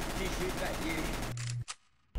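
Rapid gunfire in CS:GO rattles loudly for over a second, then cuts off abruptly, leaving a short quiet gap broken by one faint single shot before sound resumes.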